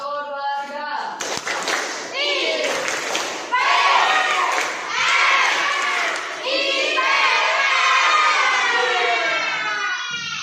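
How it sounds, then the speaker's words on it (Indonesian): A school class performs a rhythmic group clap routine, many hands clapping together in patterned bursts mixed with children's shouts and cheering, loud and close in a classroom, with children's voices throughout. "tepuk IPS sekali lagi"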